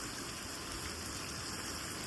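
Heavy rain pours down steadily, a dense broadband hiss and patter of a downpour during a storm, constant in level with no voices.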